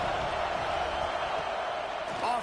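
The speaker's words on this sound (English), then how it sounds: "Decibels rising as the crowd gets behind this defense on third down." Stadium crowd roaring in the NCAA 26 college football video game during a third-down defensive stand, a steady loud wall of cheering and noise throughout with no break.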